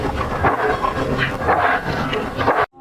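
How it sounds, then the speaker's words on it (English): A dense, pitched-down drum texture squashed hard by a limiter pulses in a thick, steady churn, loud and close, then cuts off abruptly at the end. "With the drums, I kind of used them to make a texture"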